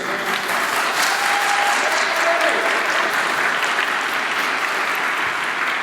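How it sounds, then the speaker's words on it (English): A dedication ceremony audience at a community center in Crown Heights, Brooklyn, breaks into sustained applause. Dense clapping fills the whole stretch at a steady, loud level, with no break or clear voices. "I also want to give everyone that I just mentioned a round of applause."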